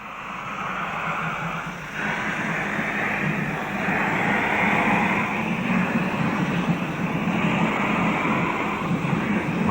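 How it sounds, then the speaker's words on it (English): A DD52 steam locomotive with sixteen driving wheels starts off, giving a continuous loud, rumbling roar with steady mechanical churning that builds slightly and keeps going throughout, with no voices. "once more the 16 driving wheels ground slowly into action"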